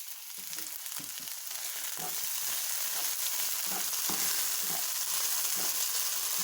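Tomatoes and red chili sizzling in a hot frying pan while cooking pasta with white beans and sausages, a constant crackling fry with occasional stirring scrapes, close and steady.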